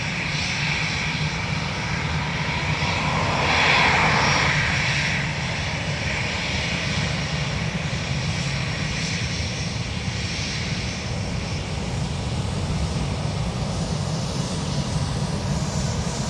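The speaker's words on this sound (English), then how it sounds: "Ryanair to Milan, rolling" A Ryanair jet bound for Milan rolls for takeoff on runway 28 right at Dublin Airport, a steady, continuous engine roar that swells briefly and then holds at a distance.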